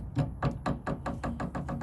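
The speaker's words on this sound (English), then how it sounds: "that knocking sound when I was turning" A worn tie rod in the steering of a 2008 Chevy Equinox knocks while the wheel is turned: about nine evenly spaced, fairly loud, close knocks in quick succession.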